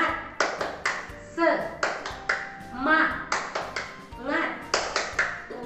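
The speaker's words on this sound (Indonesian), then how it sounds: "kita tepuk semangat dulu yuk" A class of young schoolchildren does a rhythmic spirit-clapping routine, sharp clustered claps landing in a patterned beat, interleaved with chanted children's voices close by.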